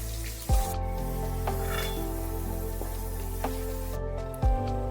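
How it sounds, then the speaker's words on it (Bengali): Thinly sliced onions fry in hot oil in a home kitchen while cauliflower moong dal with prawns is being made: a steady, fairly loud sizzle runs throughout, with a few soft stirring knocks and no talking. "পেঁয়াজগুলো লাল লাল করে ভেজে নিয়ে তুলে রাখতে হবে।"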